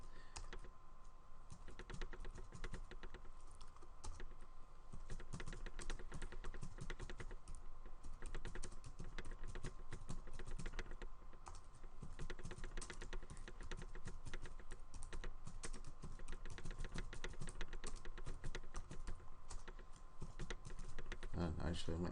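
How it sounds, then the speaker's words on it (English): Steady typing on a computer keyboard runs through the whole stretch: a dense, continuous patter of close key clicks with no talk over it. "let me just cut down the time I'm typing here"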